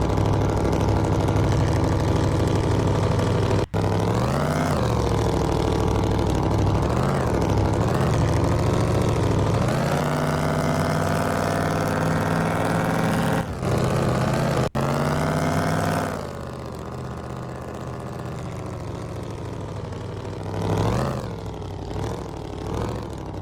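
A rollback truck with a weak, underpowered engine runs loud and close, a steady deep drone with pitch swells as it revs, easing to a quieter idle near the end.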